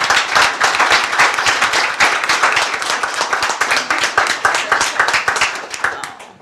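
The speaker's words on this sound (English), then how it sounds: "I think we owe her applause." A panel discussion audience gives sustained applause for a person on stage: dense, loud, continuous clapping with no pause for over six seconds.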